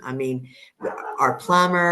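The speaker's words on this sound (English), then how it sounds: "That's my dog in the back." A dog barks a few times in the background while someone talks in the foreground, and the barks are partly masked by his voice.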